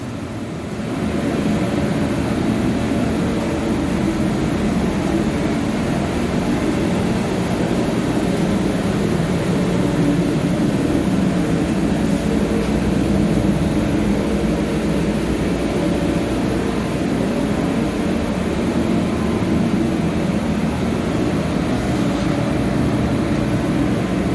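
A garage heater runs at full blast with a steady, loud, low roaring drone that holds unchanged for the whole stretch, with no talking.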